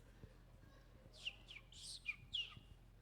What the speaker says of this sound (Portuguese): Trinca-ferro.